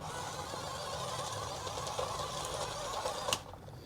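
A 1:20 scale 2.4 GHz remote-control crawler crane with tracks spinning in opposite directions turns on the spot, giving a steady, close, whirring mechanical buzz from its small motors that ends with a few clicks and no talk.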